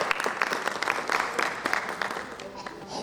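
An audience at an evening show applauds warmly, dense clapping that swells and then slowly fades, heard close with a voice speaking faintly underneath.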